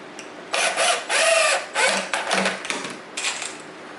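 Screws, 1.5 inches long, are driven into a walnut coffee table with a power driver, giving several short whirring bursts with brief pauses between them, close and fairly loud with no talking.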